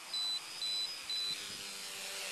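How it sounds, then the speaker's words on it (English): A timer on an FPV quadcopter radio transmitter gives three short evenly spaced electronic beeps, faint against a low background hum. "That's my battery on my, just my timer on my transmitter here."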